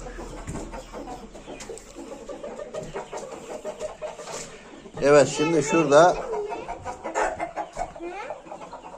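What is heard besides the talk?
roosters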